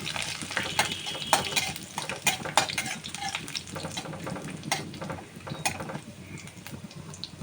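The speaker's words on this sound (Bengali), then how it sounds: "সঙ্গে একটুখানি রেড করা আদা আর রসুনের থেকে অল্প রসুনও দিয়ে দিলাম দিয়ে মশলাটা ভালো করে একটু ভেজে নেবেন" A spice paste with grated ginger and garlic fries in a pan, a low sizzle punctuated by repeated scraping and clicking strokes of a spoon stirring at an irregular pace, close and alone.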